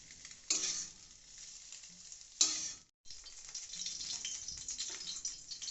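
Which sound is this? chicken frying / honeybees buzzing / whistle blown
chicken frying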